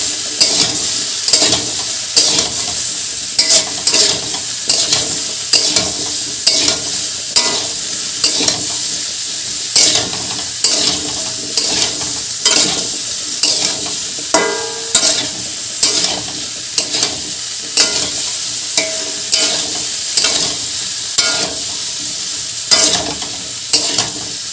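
River fish with turmeric is stirred in a frying pan, regular scraping strokes roughly every second over a steady loud sizzle, close up and without talking.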